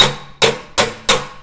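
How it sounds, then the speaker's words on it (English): Four sharp, ringing hammer blows strike sheet metal backed by a dolly, falling in an even rhythm about a third of a second apart. Each blow is close and loud, with a short metallic decay. "I'll do some direct, straight up and down blows on it to try to move that metal around."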